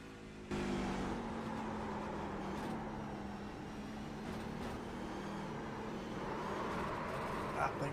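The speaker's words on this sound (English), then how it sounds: "see if we can get the cockpit, see if we can listen to the truck" A race truck's engine roars steadily from inside the cockpit during a stock-truck race at Wilkes County, holding a loud, continuous drone with a slight swell in throttle near the end.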